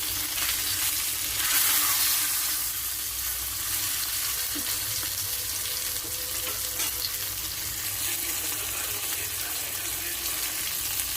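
Pieces of fish frying in oil in a pan for a Telugu fish fry, a steady dense sizzle that runs throughout at moderate, even loudness, with no talking.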